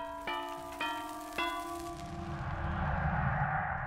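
A bell in the video game Dead by Daylight strikes three clear, ringing tones in quick succession, close and fairly loud, then fades out under a rising, rushing noise.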